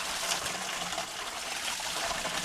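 Water rinsing down a gold prospecting screen at a mining claim, a steady, close hiss of spraying and splashing water running continuously without pause.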